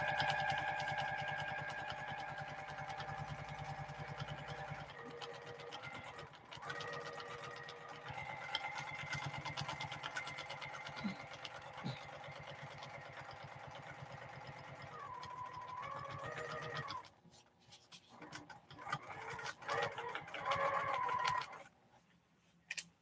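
A sewing machine runs steadily during free motion ruler quilting, a close, continuous mechanical whir that holds for long stretches, shifts speed, then stops and restarts in short bursts near the end.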